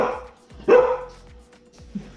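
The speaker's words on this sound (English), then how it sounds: "Your cat keeps barking" A cat lets out short, odd bark-like calls, a few sharp yips spaced apart with quiet gaps, heard close in a kitchen.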